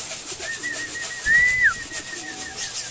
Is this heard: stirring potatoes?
no